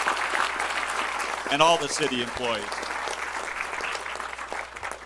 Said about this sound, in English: So a round of applause to our